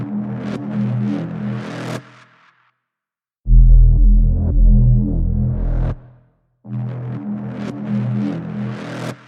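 Saturated, overdriven growl bass synth built in Ableton Live with echo on the highs: three loud, thick sustained phrases with gritty harmonics, separated by brief silences, some notes trailing off in echoes.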